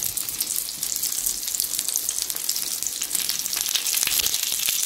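Chopped peppers sizzle steadily in a hot frying pan while a tomato omelette is cooked, a bright continuous crackle, close and even, with no talking.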